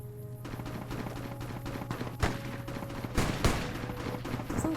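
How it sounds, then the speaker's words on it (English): Gunfire in the video game Fallout: New Vegas: rapid crackling shots and bursts over a dense, noisy game soundscape, loudest in a few sharp bangs, with no talking. "What's all the shooting?"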